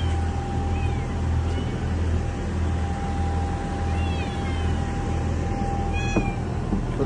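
Two cats meow a few times in short, widely spaced calls, fairly faint over a steady low engine-like hum that runs throughout.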